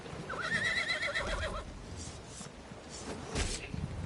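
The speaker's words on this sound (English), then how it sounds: "I'm on a horse." A horse whinnies loudly in the video game Elder Scrolls Online, its neigh rising and trailing off in the first second and a half, followed by a few scattered hoof clops and faint background game sounds.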